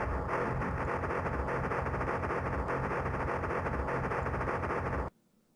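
A heavy metal music sample, sped up to double speed and shifted an octave down, plays as a dense, loud, distorted wall of sound with a steady churning pulse. It cuts off abruptly just before the end.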